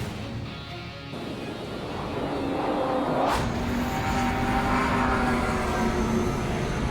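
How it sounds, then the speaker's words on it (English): Aircraft in a plane video game, a steady loud engine roar and whoosh that swells as jets rush past at high speed, with a sharp sweep partway through. "Aircraft approaching at high speed."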